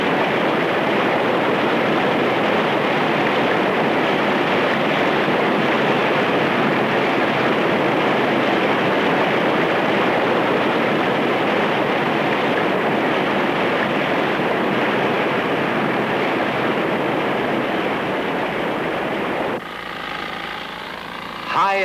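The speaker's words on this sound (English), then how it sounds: "the new tunnels felt the full fury of the raging river" Raging Colorado River water rushing through newly bored diversion tunnels in Glen Canyon, a loud, steady broadband roar that holds throughout before dropping off near the end.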